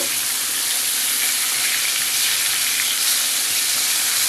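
Pieces of fish fry crackle and sizzle in hot oil, a steady dense frying hiss that holds constant and close throughout with no voices.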